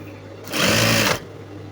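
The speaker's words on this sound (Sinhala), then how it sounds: "මේකත් මෙන්න මේ විදිහට නමලා මහනවා" Sewing machine stitching a mattress cover, one short close burst of rapid whirring stitches lasting under a second against a quiet room hum.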